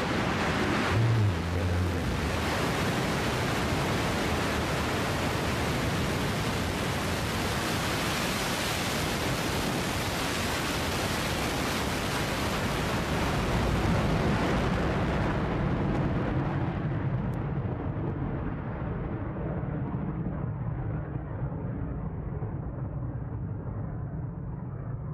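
A Blue Origin New Shepard rocket engine ignites at launch with a massive, continuous broadband roar that holds strong and steady, its brighter upper hiss dulling as the sound carries on, with no talking.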